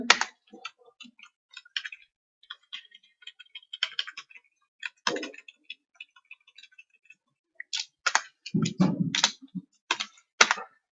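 Computer keyboard keys clack in quick irregular bursts and short pauses while HTML code is being typed, with close, crisp clicks and a few heavier thumps near the end.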